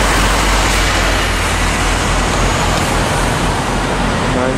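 Stagecoach buses and other vehicles pass along a town street in Ashford, Kent, a loud, steady roar of road traffic close by with no talk.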